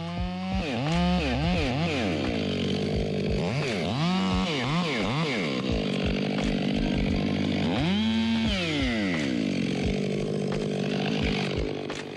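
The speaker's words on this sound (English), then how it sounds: "My bar was just barely big enough to reach across this piece of wood, so doing everything I can to make sure we get cut all the way across." A chainsaw roars continuously while its bar, barely long enough, cuts all the way across a large piece of wood, with engine pitch rising and falling under load, loud and close.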